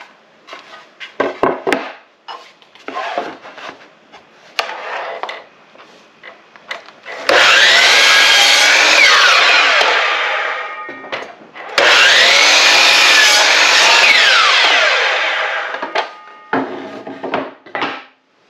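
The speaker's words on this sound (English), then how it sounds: "Now we're going to cut 2 pieces of this poplar about 10 inches long." Poplar boards are hand-sawn for a simple DIY shelf, with two long, loud bursts of steady rasping strokes, separated and bracketed by scattered knocks, scrapes and handling of the wood.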